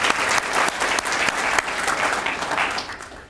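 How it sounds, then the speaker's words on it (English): An audience at a school academy and scholarship banquet applauds a student of the month, with dense steady clapping throughout and a few sharper individual claps standing out near the front. "let's go ahead and give her a round of applause"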